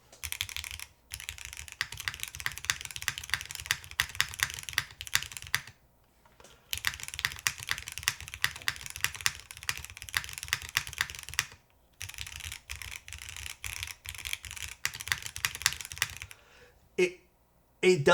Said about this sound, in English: But no foam Granite switches on the SK71 Pro.